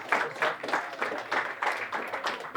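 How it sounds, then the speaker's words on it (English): A small audience at a soccer club's uniform and gear unveiling claps for Dalton, with a close, uneven patter of hands lasting a couple of seconds. "You guys clap for him."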